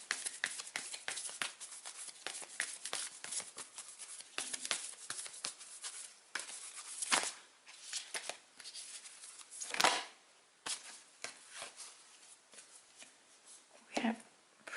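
Tarot cards are shuffled by hand in a steady run of quick riffling flicks and soft slaps across the whole stretch, close and moderately loud, with a few sharper card snaps standing out.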